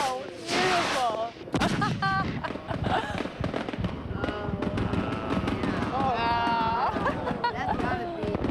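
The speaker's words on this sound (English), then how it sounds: "really you want to be here at night for the closing fireworks" Closing fireworks burst over Magic Kingdom at night, repeated booms and crackles rolling in the distance while a crowd cheers and people exclaim close by throughout.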